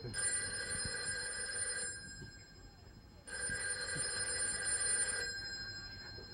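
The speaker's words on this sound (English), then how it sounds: "Well, if you don't answer the phone, I will." A telephone bell rings in two long, bright bursts separated by a short pause. The ringing is faint and distant, with a low background murmur behind it.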